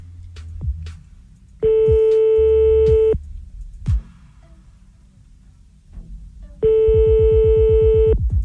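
A telephone number is dialed on a landline for a radio prank call: two long steady electronic tones, each lasting over a second and separated by a pause, with short clicks in between, loud and close.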